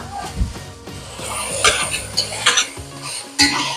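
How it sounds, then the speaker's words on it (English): Garlic is added to onion and meat in an Instant Pot for steak fried rice, and a spoon stirs and scrapes against the metal pot in repeated close clinks, with some light sizzling and a cough. "here we go, adding the garlic."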